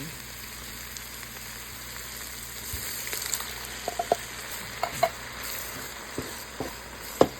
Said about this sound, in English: go ahead and add the tomato sauce in